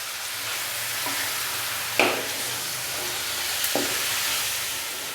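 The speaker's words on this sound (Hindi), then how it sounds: "बीफ को मैंने तकरीबन 5 से 7 मिनट के लिए अच्छे से फ्राई कर लिया है, अच्छे से घी के अंदर भून लिया।" Bone-in beef fries in ghee for a Peshawari namkeen rosh, a steady close sizzle with a couple of sharp stirring scrapes and clinks breaking through.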